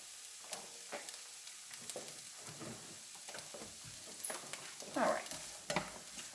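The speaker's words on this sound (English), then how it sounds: "I got some of these onions on the stove" Onions cooking on a stove for vegan lasagna, giving a soft, faint sizzle with occasional stirring and clinking close by, quiet overall.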